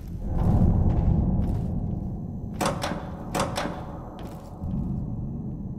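Doors open aboard a submarine in the video game Ashes: Afterglow, giving two sharp mechanical hissing bursts in the middle over a low rumbling ambience, with softer shuffling thumps around them.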